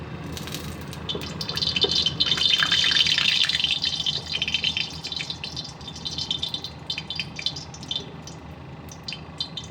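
Melted oil poured into a pan while cooking Madras-style rohu fish, a close, continuous liquid rattle and trickle with bright splashy texture that swells early and then settles into a steady pour.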